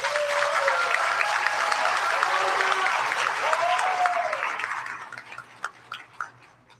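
Sustained audience applause for nursing graduates at a pinning ceremony fills the room, dense and steady, then thins into scattered individual claps as it fades out; faint voices murmur underneath.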